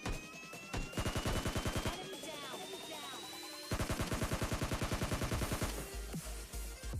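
Rapid bursts of video game gunfire, one sustained automatic volley after another with a short break near the middle, loud and close, with a high tone running underneath and no speech.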